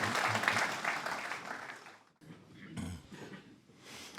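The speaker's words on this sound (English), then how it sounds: "Applause, please, now." Audience applause at the close of a live evening talk by a fishing author, a dense burst of clapping that fades after about two seconds, followed by scattered claps and room noise.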